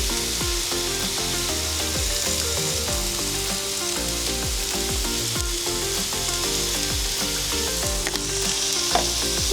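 Chicken thighs fry on a Blackstone griddle, a loud, unbroken sizzle with repeated scraping and stirring taps from a spatula, close and steady with no talking.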